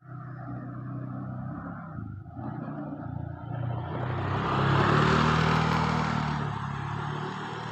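A motorcycle engine rises in loudness as it draws near, peaks, then eases off as it moves away, a steady droning pass with no voices.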